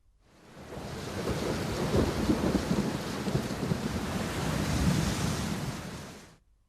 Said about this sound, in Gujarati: 2 કલાકમાં 30 તાલુકાઓમાં વરસાદ વરસી ચૂક્યો છે.